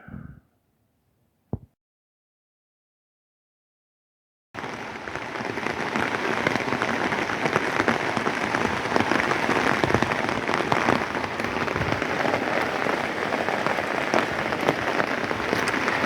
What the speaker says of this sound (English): Yep, just a little rain again today for a change.